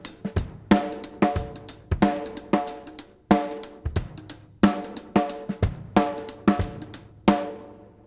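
A drum kit plays a shuffling swing hip-hop groove with punchy kicks, crisp snare hits and ringing cymbals in a steady, bouncing triplet rhythm.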